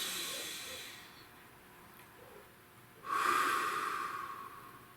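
A deep breath drawn in and then released, soft airy hiss close to the microphone, the louder exhale rising sharply after a quiet stretch and fading slowly.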